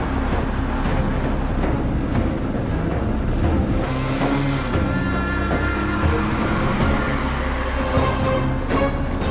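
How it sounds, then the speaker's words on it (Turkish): A car engine drones and revs as the driver accelerates, a loud, continuous roar with a rising pitch in the middle, heard without any talk. "Bas sen, bas gaza."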